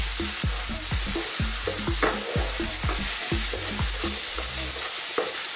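Onions sautéing in a frying pan, a constant loud sizzle under repeated rhythmic scrapes and knocks as they are stirred, close up, no talking.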